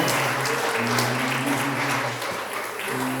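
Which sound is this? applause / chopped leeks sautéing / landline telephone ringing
applause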